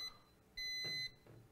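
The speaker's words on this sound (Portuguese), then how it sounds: "E a função sonora do alarme, né?" Control panel alarm on a 250 kVA generator gives a high electronic tone, one short beep then a longer sustained tone about half a second, with faint handling noise between.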